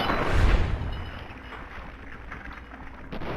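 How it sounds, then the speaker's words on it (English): A grenade goes off in Fallout 3 with a deep, booming thud up front that rolls off into a long, low rumbling decay. "Well, that's a grenade!"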